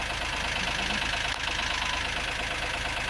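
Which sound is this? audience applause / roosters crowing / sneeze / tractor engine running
tractor engine running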